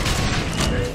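Cannon fire in the video game BioShock Infinite, a dense burst of booming gunfire and thuds over a continuous roar of combat, with a voice talking over it.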